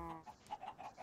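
Chickens on a farm in the Minecraft TerraFirmaCraft mod give a few short, quiet clucks in quick succession with no voices over them.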